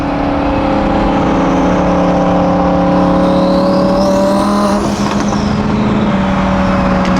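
A twin-turbo Audi R8 runs close by, its steady engine drone joined by a turbo whine that rises and then falls away, with no one talking.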